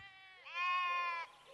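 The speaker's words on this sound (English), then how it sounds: "The voices you hear behind me are the voices of a herd of sheep." A single sheep in a herd in Abruzzo, Italy gives a clear, drawn-out bleat that swells partway in and then cuts off, heard alone against a quiet outdoor background.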